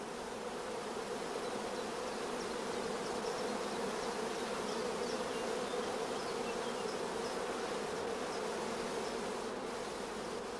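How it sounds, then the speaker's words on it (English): Honeybees crowding thickly around the cells of a queen rearing frame, a dense, steady buzzing hum that holds evenly throughout at moderate closeness. "Bees crowding thickly around the cells is a first positive sign of good acceptance."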